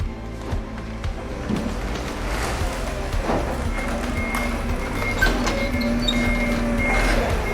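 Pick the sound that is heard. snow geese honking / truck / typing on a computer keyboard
truck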